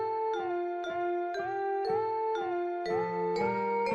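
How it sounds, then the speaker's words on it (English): A school bell rings out in a cartoon setting as a repeated ding-dong chime, about eight clear tonal strikes in steady rhythm, loud and alone with no voices. "The bell rang and all bunnies start to went home."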